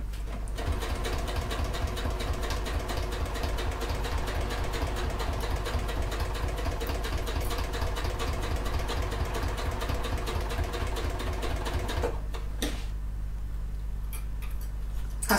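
Close-up sewing machine stitching a clutch bag, a steady fast rhythmic whir and needle tapping that runs for about twelve seconds before stopping, then a few faint clicks.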